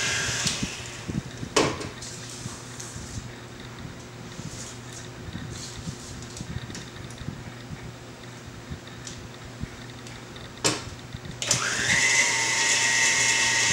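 An electric mixer beats coconut cake batter with a continuous motor whir and faint rhythmic scraping. Sharp knocks against the bowl break in now and then, and the motor grows louder and higher toward the end.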